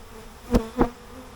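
Close, droning buzz of honeybees at a hive with burr comb, with two brief louder swells as bees pass near, over a low steady hum.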